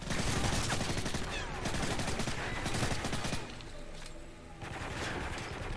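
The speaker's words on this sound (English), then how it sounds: "That's a lot of bullets." Dense, sustained automatic gunfire rattles loudly and close in Call of Duty: Modern Warfare 3, with overlapping bursts that briefly thin out before resuming.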